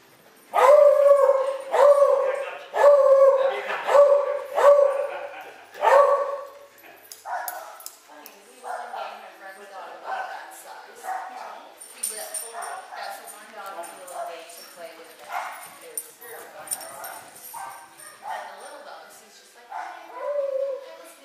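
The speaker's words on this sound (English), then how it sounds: "He's barking at everybody blank." A dog gives a run of loud, repeated barks and yips close by at the start, then quieter intermittent yelps and whines continue under a person speaking.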